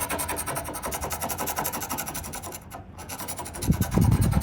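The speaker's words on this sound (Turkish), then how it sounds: "Ben de kazımalar yapıyorum." Steady, rhythmic scraping of a catamaran hull during a survey, with quick repeated strokes running nearly the whole time and a heavier low thumping near the end; no talking.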